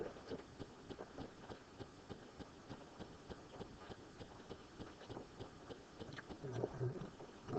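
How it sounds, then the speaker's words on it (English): Crunchy sushi roll being chewed up close, with a steady run of soft, rhythmic crunching bites that swell louder near the end. "I'll eat me some sushi real quick. Love me some super crunchy roll."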